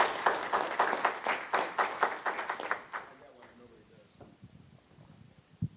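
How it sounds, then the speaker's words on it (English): An audience at a legal conference on litigating the Clean Power Plan claps after a presentation. Scattered, fairly faint hand claps run for about three seconds and then thin into a few isolated claps. "A round of applause."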